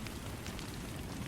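Steady rain falls on a surface, a dense, even patter and hiss that continues without a break, fairly soft and heard alone.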